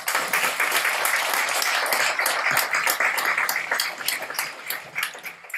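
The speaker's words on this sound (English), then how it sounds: "Could we give them a round of applause, please?" Audience applause at a CTE graduation ceremony, honoring the school staff: a steady, dense wash of many hands clapping from a large crowd, continuous throughout and easing slightly near the end.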